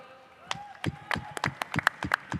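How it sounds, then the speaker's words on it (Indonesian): Scattered, uneven clapping at a combat-sports press conference, a handful of sharp claps growing denser over two seconds, with faint voices and tonal noise underneath. "Nun Kang, tepuk tangan dulu dong."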